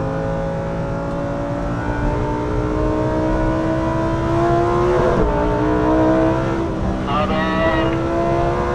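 A Lamborghini Huracán Evo RWD pulls hard on a racing circuit, its engine wailing loud and close as it climbs through the gears with quick shifts, continuous and powerful, heard from inside the car.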